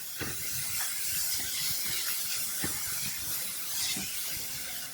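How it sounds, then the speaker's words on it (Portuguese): Half a green and half a red bell pepper sizzling in well-heated olive oil in a pan, a steady bright hiss with occasional soft pops and crackles, close and alone. "Com o azeite já aquecido, eu coloco meio pimentão verde e meio pimentão vermelho."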